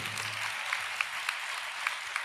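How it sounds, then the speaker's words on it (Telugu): A small audience claps lightly and steadily, with a handful of sharper, isolated claps standing out now and then against the soft, continuous patter, all heard at some distance. "ఇప్పుడు కొట్టాలి చప్పట్లు"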